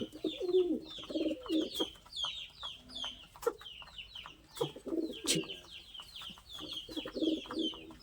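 Pigeons coo and cluck repeatedly at close range, low throaty calls pulsing in bursts among scuffling and squabbling birds, with faint chirps overhead and no talk.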